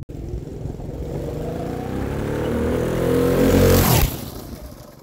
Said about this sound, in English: That's the Twin Engine Go Kart.